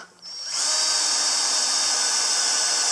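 A power drill drives a self-drilling lath screw into wood for an entry door awning, spinning up sharply after a short pause into a loud, steady high whine that holds to the end.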